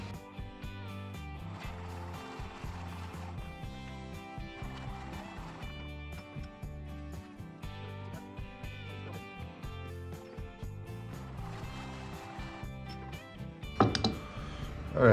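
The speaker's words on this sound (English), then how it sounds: "I'm just going to use a 2-inch Forstner bit," A 2-inch Forstner bit turning at 250 RPM bores a recess in birch burl, producing a continuous low whirring and chattering cut, fairly faint, with a brief sharper scrape near the end.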